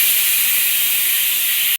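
A pressure cooker whistles while mutton sambar cooks, a loud, steady hiss of steam that holds for nearly two seconds and then cuts off abruptly.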